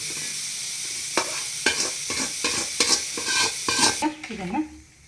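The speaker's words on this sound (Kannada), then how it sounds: "ಈಗ ಈ ಉಪ್ಪಿನಕಾಯಿ ಮೇಲೆ ಎಣ್ಣೆನ ಹಾಕ್ಕೊತೀನಿ." Mango pickle being mixed after oil is poured over it, with about seven firm, rhythmic stirring strokes scraping through the chunky mixture up close, then a softer trailing stir at the end.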